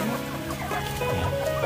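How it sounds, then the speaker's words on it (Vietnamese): Small bantam chickens at a poultry farm, clucking continuously at close range, several birds overlapping in a busy, steady chorus. "Còn đây là gà tre."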